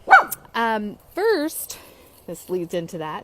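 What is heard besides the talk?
Chihuahua-Maltese mix dog barking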